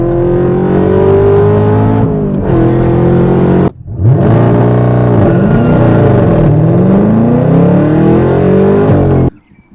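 A ZL1 Camaro engine revs hard and loud with rising and falling pitch, a brief drop near the middle before climbing again, then cutting off near the end.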